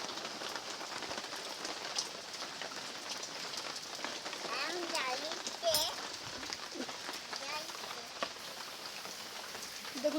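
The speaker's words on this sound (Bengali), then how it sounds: "দেখুন কীভাবে বৃষ্টি পড়ছে।" Rain falls all around, a dense, steady patter on surfaces that continues throughout while a voice speaks faintly beneath it.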